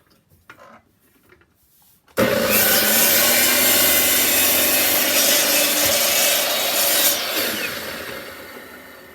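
A miter saw cuts through an old wooden cutting board. After two seconds of faint knocks it bursts into a loud, close, continuous cutting roar that holds for about five seconds, then tapers off.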